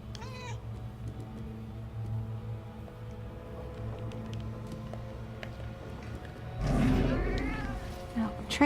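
A cat meows a few times in the Murdered: Soul Suspect video game, set against low game ambience and music, with a louder burst near the end and someone talking over parts of it.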